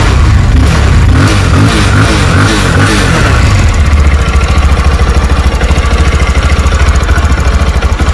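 An RKS TNT 202 motorcycle engine revs sharply with a loud, throaty exhaust, the throttle blipped in quick bursts before it settles into a fast, pulsing idle, close up and with no talk.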